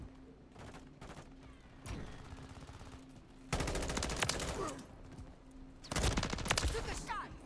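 Bursts of full-auto M16 fire in a first-person shooter video game, several rapid volleys with loud stretches around the midpoint and near the end, mixed with game noise and some speech.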